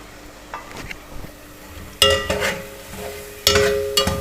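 Spices for masala bhindi fry in a spoonful of cooking oil in a pan, a soft steady sizzle broken by a few distinct scraping and stirring bursts of a spoon against the pan, close and fairly quiet, with no talk.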